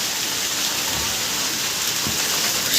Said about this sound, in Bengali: বৃষ্টি এখন হলো কিন্তু করে পড়ছে